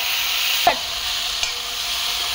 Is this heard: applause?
no